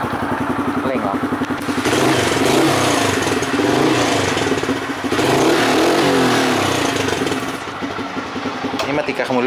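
A Honda MSX motorcycle engine runs and revs loudly and continuously near the listener, with a rough, steady drone that rises and falls, while a person talks over it.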